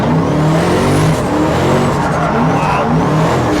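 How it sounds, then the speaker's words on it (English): Nissan 200SX fitted with a 4.0-litre 1UZ V8, turbocharged with tubular manifolds, roaring on a dyno: loud, sustained high-rpm engine drone with sweeping pitch rises and turbo whine, close and continuous. "So obviously, lovely big 1UZ V8 engine."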